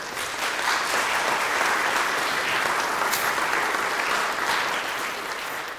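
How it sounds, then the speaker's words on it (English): A large audience at an Ageless Wonders community event bursts into a sustained, dense round of applause, loud and steady throughout with no speech over it. "Let's give a round of applause for Ms. V right here."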